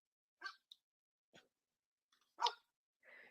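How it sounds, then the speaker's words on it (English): A household dog barks indoors, a few sharp separate barks spaced irregularly over a few seconds, fairly loud and close with quiet gaps between them and no talk. "She doesn't even usually bark, so it's funny that this happened."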